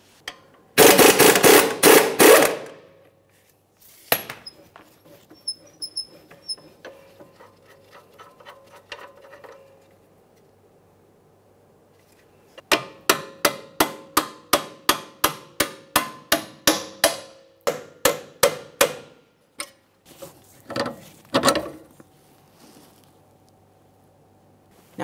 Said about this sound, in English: I'll be holding the bolt head with a 21 millimeter wrench and a 24 millimeter socket along the front here to remove